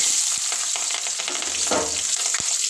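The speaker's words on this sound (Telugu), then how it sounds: "అలాగే నూనె అయితే వేడైపోయింది అలాగే చెక్క కరేపాకు అలాగే ఉల్లిగడ్డ పచ్చిమిర్చి" Cinnamon, curry leaves, onion and green chilies frying in hot oil for a chicken liver fry, giving a steady, close, loud sizzle with a few stirring scrapes and no talk.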